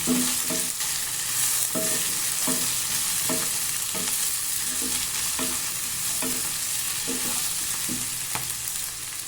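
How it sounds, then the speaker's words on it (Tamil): Potatoes and green peas sautéing in a pan for a green pea kurma, with a soft continuous sizzle broken by regular scraping stirs of a spoon, close and fairly quiet, no talking. "எல்லாத்தையும் நல்லா வதக்கிட்டுக்கலாம்."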